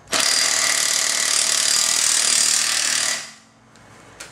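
A cordless impact wrench tightening a bolt torqued to 100 foot-pounds: one loud, continuous hammering whir for about three seconds, then it stops, leaving a faint quiet tail with a small click near the end.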